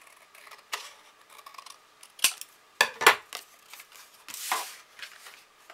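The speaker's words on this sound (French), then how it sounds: "Hop, je coupe mon morceau." Scissors or a blade cutting a piece of material for a handmade double surprise box: several short, crisp snips and rustles, close and fairly quiet, with pauses between them.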